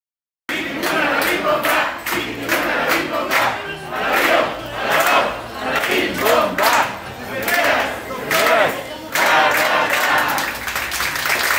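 Crowd at a COVID-19 vaccination site in Toluca, Mexico, clapping and cheering for nurses: surging bursts of applause mixed with shouts and whoops, rising and falling in waves after a brief silent start.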